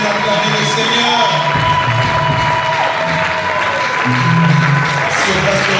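A church congregation applauds and cheers in praise, a dense sustained roar of clapping and voices filling the room, with people talking and calling out over it throughout.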